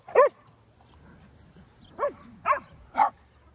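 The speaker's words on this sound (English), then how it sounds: "So he growls." A dog at play with a ball gives four short barks and yips, one near the start and three spaced bursts toward the end, with quiet low growling in between.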